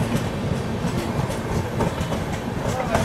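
An express train runs along the rails with a continuous rumble and a regular clickety-clack of wheels over rail joints, heard close and steady throughout.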